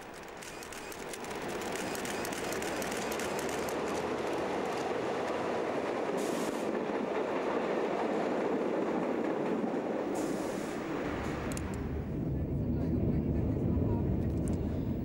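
A Berlin U-Bahn subway train rolls into Zoologischer Garten station underground, a loud sustained rumble and rail roar that shifts near the end, with a voice speaking over it.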